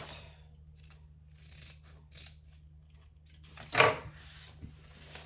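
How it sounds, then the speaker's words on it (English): Scissors snip through fabric to trim excess pocket material while sewing a crossbody bag, several quiet close cuts followed by one louder, sharper snip near the end in a quiet room. "So trim off your excess pocket."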